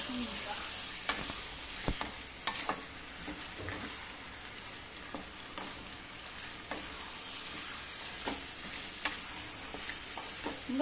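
Chicken pieces frying on high heat with onions, green chillies and ginger garlic paste, a constant close sizzle punctuated by repeated scraping and clinking stirs of a spoon against the pan, with no talking.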